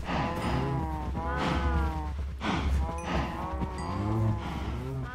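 Minecraft cows moo repeatedly in a farm pen, several overlapping low drawn-out calls one after another, close and clear with no talking.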